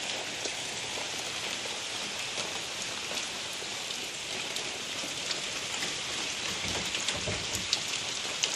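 Steady rain falls on an evening, a dense continuous patter of drops on surfaces nearby, with a few sharper close drips and no voices.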